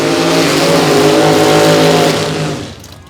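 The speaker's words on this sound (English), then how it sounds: "All right, beautiful burnout." A drag racing car does a burnout at Toronto Motorsports Park, its engine roaring loud and steady with a dense harmonic drone for about two seconds before fading away.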